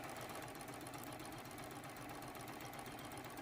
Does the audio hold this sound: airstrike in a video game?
no